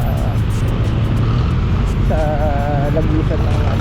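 Steady road traffic heard from a motorcycle riding home from work through a traffic build-up, with a continuous loud engine and wind rumble and a brief higher whine partway through.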